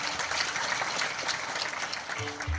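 A kirtan audience claps together in a dense, even burst of applause that fills the hall, faint and somewhat distant, and trails off near the end.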